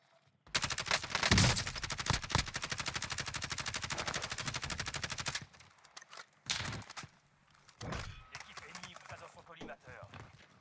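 Sustained rapid gunfire from an online shooter video game, with a long stretch of dense automatic bursts followed by sparser, separated shots; a voice talks over parts of it.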